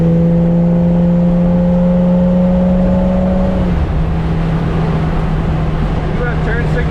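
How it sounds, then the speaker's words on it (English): A 1932 Ford Roadster's exhaust drones loudly and steadily while driving, its low tonal hum holding pitch before dropping lower and settling into a continuous rumble. "Great exhaust sound."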